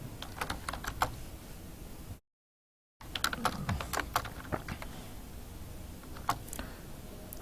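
Keys clatter on a computer keyboard as a value is entered, a run of close, crisp clicks in uneven bursts, broken by a short gap of complete silence before the tapping resumes.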